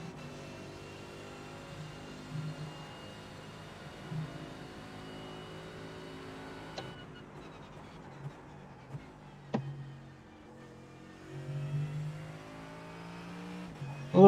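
GT race car engine in iRacing at Road America during a VRS GT sprint, a quiet steady engine drone with slight throttle feathering, small bursts of revving and a louder swell at the end.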